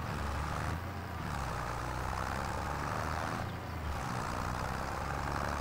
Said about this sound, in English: Well, yeah, the tractor is struggling.